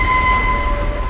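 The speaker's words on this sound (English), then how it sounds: "the sound of the train just gets really loud and intense" Train sound from the Hitchcock film The Lady Vanishes, a loud, dense rumble with a steady sustained tone over it, filling the whole short stretch.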